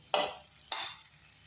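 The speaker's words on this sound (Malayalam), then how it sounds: "ഇനി ഇതിൻ്റെ പച്ചമണം മാറുന്നത് ഞാൻ വഴറ്റിയെടുക്കാം" Chili, coriander and turmeric powders are sautéed in a pan, with two distinct stirring scrapes about half a second apart, close and moderately loud, with no talk.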